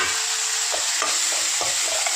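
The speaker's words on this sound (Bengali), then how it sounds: "এখানে আমি ঢেলে দেবো একটা টমেটো।" Tomato tipped into a frying pan with salt and oil and stirred, a steady sizzle under a few sharp scraping knocks of the spoon against the pan, no voices.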